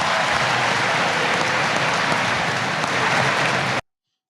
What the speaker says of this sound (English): It's crazy that they're clapping about that shit